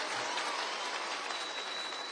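A stadium crowd at a political rally in Murang'a gives dense, continuous applause, a steady wash of many hands clapping at a distance.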